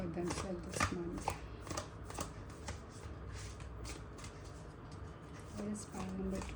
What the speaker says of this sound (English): let me complete all the shuffle